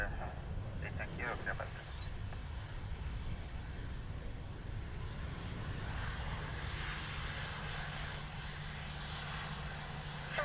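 An airplane arriving at Dublin Airport, a distant low engine rumble and rushing roar that builds slightly over about ten seconds, with faint radio chatter in the background.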